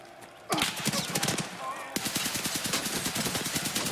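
Rapid automatic gunfire in the tactical shooter Escape from Tarkov, loud sustained bursts with tightly spaced repeated shots after a brief quieter lead-in, continuing steadily to the end.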